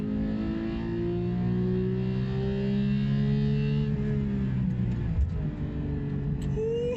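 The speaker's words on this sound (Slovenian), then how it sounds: "Motor se vrti do 9000 vrtljajev." A sports car on a race track revs its engine toward 9000 rpm, a loud, close, smooth howl climbing steadily in pitch before dipping briefly and rising again.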